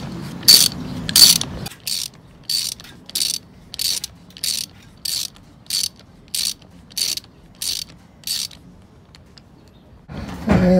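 A ratchet with a standard half-inch socket works the propeller nut on a Kiwi Prop, about a dozen crisp, evenly spaced bursts of rapid clicking, loud and close, with no talking.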